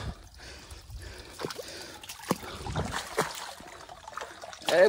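Water trickles and dribbles outdoors in a village while a sandal is washed, with scattered small splashes and drips at moderate level and no talk.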